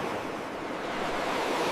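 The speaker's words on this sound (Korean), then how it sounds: "파도 소리가 음악처럼 들렸습니다" Ocean waves break near a lighthouse in a steady, loud rushing wash that swells slightly toward the end, with a bit of wind and no voices.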